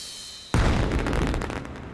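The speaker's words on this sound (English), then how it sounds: "Ah, it's fireworks." Fireworks burst loudly in the space survival game Astroneer: after half a second of quiet a sudden sharp blast hits, then a dense crackling rumble of explosions continues steadily to the end.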